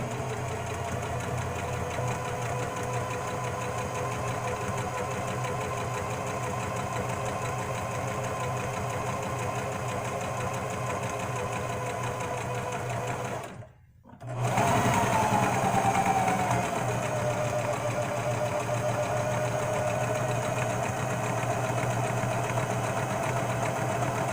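Sewing machine stitching fabric, a steady close mechanical hum and rapid knocking drone running on, broken by a brief pause near the middle before resuming at the same pace, heard without talk.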